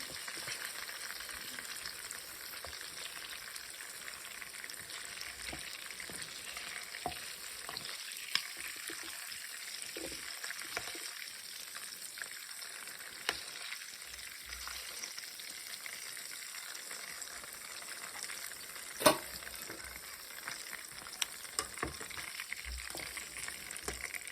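Chicken deep-frying in hot oil for biryani, a faint, steady bubbling sizzle running the whole time with occasional small clicks and one sharper knock.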